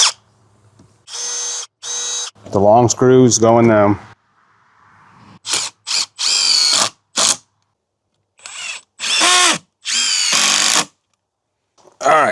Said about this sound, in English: now we're going to pre-drill these.